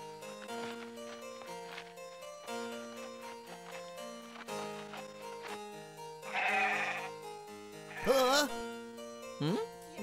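Sheep bleat a few times, wavering calls rising over a soft musical background, fairly faint and spaced out toward the end.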